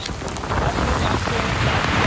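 Heavy monsoon rain and strong wind roar loudly and steadily, close by, as a dense broadband wash during a train journey from Pune toward Haridwar on the Haridwar Express.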